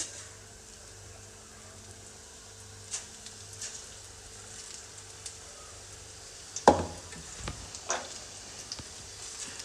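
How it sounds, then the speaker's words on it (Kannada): Bonda fritters slipping into hot oil in a pan over a gas flame, with a faint, steady sizzle broken by a few sharp plops and clicks near the end. "ಇವಾಗ ಎಣ್ಣೆ ಕಾದಿದೆ ನಾನು ಬೋಂಡನ್ನು ಹಾಕ್ಕೊಳ್ತಾ ಇದ್ದೀನಿ"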